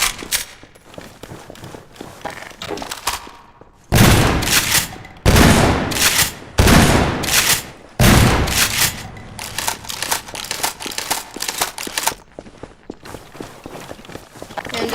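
Gunfire in Garry's Mod with realistic weapons, loud close bursts of automatic fire separated by short gaps, with footsteps and lighter clatter in between.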